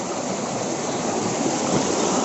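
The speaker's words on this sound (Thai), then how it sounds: "เราก็เจอกับลำธารนนะฮะ" A forest stream flows in a steady, broad rush of water, loud and close, continuous without pause or voices.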